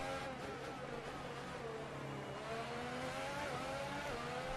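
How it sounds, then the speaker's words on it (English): Williams Formula 1 car engine in the F1 2018 racing video game, a steady high-pitched whine with gear-shift changes in pitch, loud and continuous with no voices. "there's those beautiful engine sounds this year"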